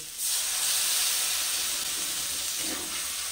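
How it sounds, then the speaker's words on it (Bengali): Water is added to a hot kadai of fish curry, a loud, steady hiss of steam that fills the whole stretch and slowly eases off, with no talking. "দেখো কড়াই লেগে লেগে যাচ্ছে, ওই জন্য আমি একটু করে জল দিয়ে দিচ্ছি"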